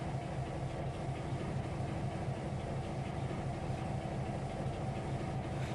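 A freight train in the Trainz 2022 simulator on the Tidewater route starts rolling with its brakes not fully released, giving a steady, continuous low rumble and rail clatter throughout, with no talking.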